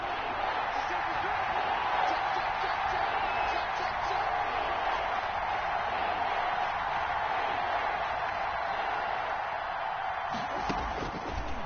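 Stadium crowd noise in the Madden 21 football video game, a steady roar building before a big third down, running continuously under commentary.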